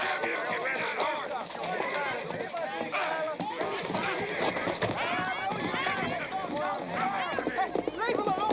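A horse's hooves pound and clop in a 1989 Western drama, partly buried under loud, angry shouting voices throughout.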